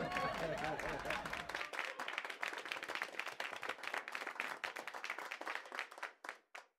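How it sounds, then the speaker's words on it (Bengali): A congregation at a sermon claps in a burst of scattered applause that thins out and stops, with a voice speaking at the start. "ধন্যবাদ তাদের জন্য যারা 5 বার তালি দিয়েছেন।"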